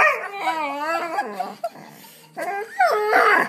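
A dog whimpers and yips in high, wavering whines, pausing briefly before a second burst of insistent yelping, close and fairly loud.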